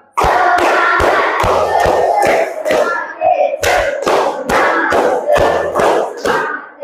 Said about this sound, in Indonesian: Tiga kali tepuk semangat.